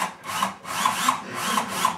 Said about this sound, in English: Remember, these are self-starting, so they'll drill their own hole.